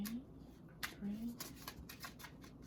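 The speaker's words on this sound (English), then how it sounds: "I'm gonna do a little bit of a shuffle here." Soft riffling and flicking of tarot cards being shuffled, a few quick papery bursts close by, with faint voice-like tones in the background.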